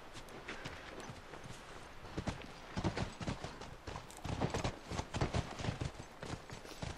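Horse hooves in The Last of Us video game clip-clop in an uneven, trotting rhythm, growing busier toward the middle, with no voices over them.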